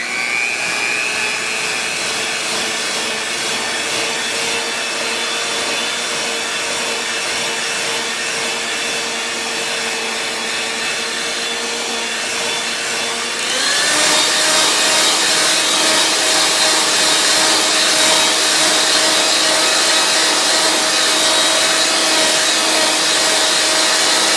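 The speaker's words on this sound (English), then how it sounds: "we're gonna hit it with the old hand mixer" An electric hand mixer whirs steadily as it blends homemade Instant Pot yogurt, a constant motor drone that shifts to a higher, louder pitch partway through and keeps running without pause.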